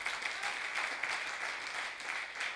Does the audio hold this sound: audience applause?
yes